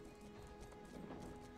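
Horses gallop in the video game Frostborn, a faint, steady clip-clop of hooves running under a low background hum.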